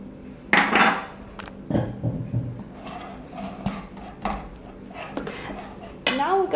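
A fork mixing bread roll dough of flour and salt in a bowl, giving irregular scraping and clinking knocks against the bowl, loud and close, with brief voice sounds near the end.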